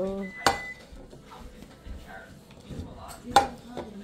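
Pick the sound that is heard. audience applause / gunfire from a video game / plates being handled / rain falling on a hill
plates being handled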